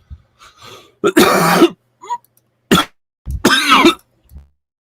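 A rough fit of repeated coughs and throat clearing, several harsh bursts close to the microphone separated by short pauses.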